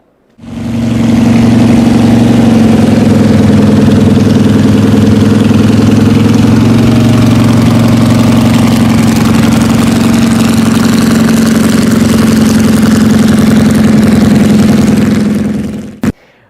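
A Corvette CERV III concept car engine idles steadily for about fifteen seconds, a loud, close, deep and even rumble with no talking.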